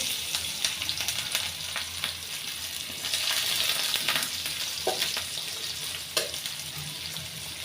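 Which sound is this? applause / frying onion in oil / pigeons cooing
frying onion in oil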